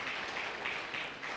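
An audience at a business summit applauds a speaker, a dense wash of clapping from many hands, steady and moderately loud throughout the short stretch.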